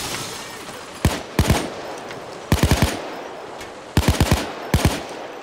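Gunfire in the heist game Payday 2, several short automatic bursts of three to five rapid shots each, loud and close, spaced a second or so apart over steady background noise.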